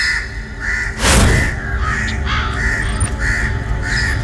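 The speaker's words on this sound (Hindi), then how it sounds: "कौवे" Several crows caw repeatedly at night, harsh calls sounding in bursts at moderate distance over a steady ambient background, with one louder rushing noise partway through.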